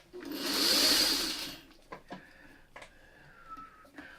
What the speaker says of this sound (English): now we're going to just sew this together exactly like a 4-patch